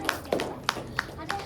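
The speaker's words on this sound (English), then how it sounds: "So big round of applause to Mrs." An indoor audience at a Gita course gathering claps in a short burst of scattered, uneven hand claps, fairly close and loud, with a voice speaking briefly among them.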